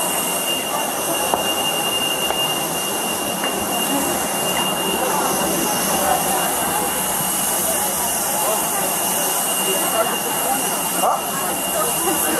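Steady jet airplane engine roar from an incoming flight, a constant broadband rumble and whine with a thin high tone, heard through an airport setting with faint background murmur.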